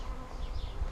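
Honey bees buzz at a top bar hive during a hive split, a close, continuous hum with no voices.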